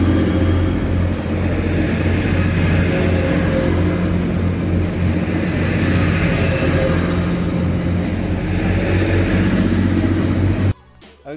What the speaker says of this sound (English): Listen to the train noise, 400.